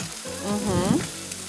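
Butter sizzles steadily in a pan with onion and greens, a close, bright frying hiss with some crackle, no talking.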